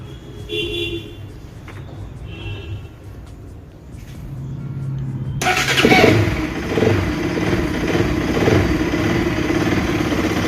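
A Bajaj Pulsar RS 200 motorcycle with a faulty MAP sensor cranks and fires up, then settles into a loud, rough, steady idle close by.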